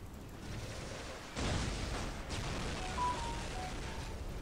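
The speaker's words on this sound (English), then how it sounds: "Man, I like the explosions in this game." A deep explosion booms in the video game Dawn of War, a sudden broad burst midway followed by a second softer blast over ongoing low battlefield rumble.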